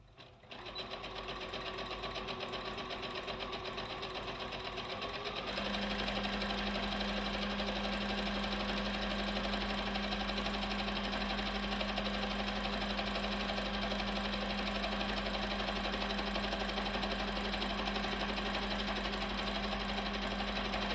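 A Brother PB6800 sewing and embroidering machine stitches a zigzag, a fast steady mechanical whirr with a clear hum that shifts in pitch partway through, close and continuous with no voices.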